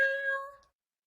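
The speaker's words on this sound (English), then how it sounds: "What's wrong with your cat?" A cat lets out a single drawn-out meow, loud and close, tapering off after about half a second into silence.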